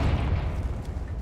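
A Confringo explosion spell from the Hogwarts Legacy video game lands as a loud, rumbling boom, dense and low throughout the brief moment with no pause or tail.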